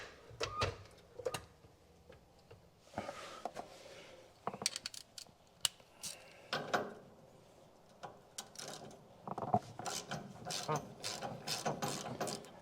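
A ratchet wrench loosens bolts during an engine swap on a 1967 Chevrolet C10, giving close, intermittent bursts of rapid clicking mixed with metallic clanks and scattered pauses.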